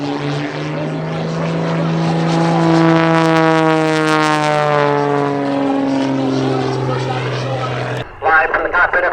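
An aerobatic airplane flies at an airshow, its engine droning loudly and steadily with a rising, falling pitch sweep as it dives and passes, and an announcer talks over the noise.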